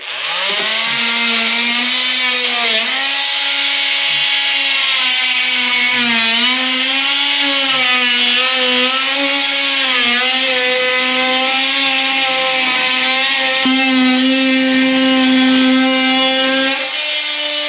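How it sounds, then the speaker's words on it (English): Power tool cutting drywall in a guest house under renovation, a loud, continuous high whine with a wavering pitch that holds steady for the full stretch, close up and uninterrupted. "Let's trim this drywall up out of the way"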